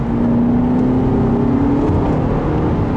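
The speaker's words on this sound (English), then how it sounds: "the car does blip the throttle pretty well" A 2012 Mercedes-Benz C250 four-cylinder engine idling then briefly rising in pitch with a quick throttle blip, heard loud and close from inside the car.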